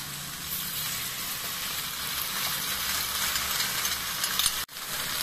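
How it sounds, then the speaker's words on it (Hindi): Onions and bell peppers for chilli mushroom sizzle in a hot pan with a steady, bright frying hiss that runs unbroken and cuts out briefly near the end, with no voices. "दो मिनट हो चुके हैं हमारे प्याज और शिमला मिर्च को पकते पकते"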